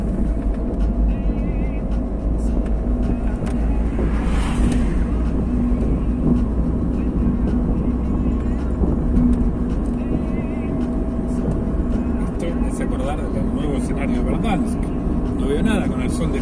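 Car engine of a five-speed car driving through Santos de la Humosa: a steady, loud drone with road rumble, held while climbing through the gears toward fifth, with someone talking over it throughout.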